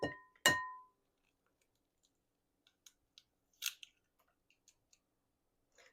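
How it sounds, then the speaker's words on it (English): Two eggs cracked into pancake batter for high-protein pancakes: two sharp, close cracks right at the start, followed by a few faint, scattered clicks and taps in an otherwise quiet kitchen. "we're going to crack in our 2 eggs."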